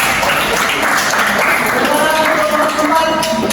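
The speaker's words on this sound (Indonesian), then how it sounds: "tepuk tangan untuk kelompok 4" A classroom of students applauds for a presenting group during a school guidance lesson on stopping bullying, steady continuous clapping with some voices mixed in throughout.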